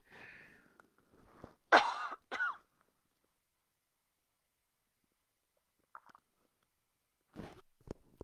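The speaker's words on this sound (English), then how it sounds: "I got a tickle in my throat and I'm going to cough again." A few close, rough coughs and throat-clearing sounds from a tickle in the throat early on, then long silence with faint scattered noises near the end.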